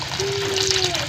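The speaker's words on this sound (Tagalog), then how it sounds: "At dadagdagan na natin ng tubig." Water pours into a pot of mung bean soup being cooked, a short, soft trickling splash with a rising tone as the pot fills.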